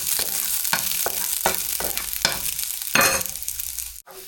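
Garlic sizzles in a pan for a squid stir-fry, a bright steady frying hiss punctuated by repeated sharp scraping stirs, ending in an abrupt clatter.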